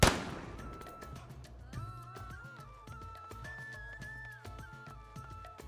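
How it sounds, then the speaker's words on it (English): A sharp gunshot cracks at the start, then fades into a busy backdrop of music and tonal sound effects. "You know, sound of a firearm, just in case."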